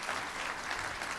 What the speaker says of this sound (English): why don't we give a big round of applause to Mike